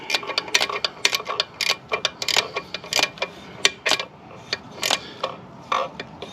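A wrench is worked in short ratcheting strokes on the EGR of a Fox Body Mustang, giving a close, irregular series of sharp metallic clicks and ticks.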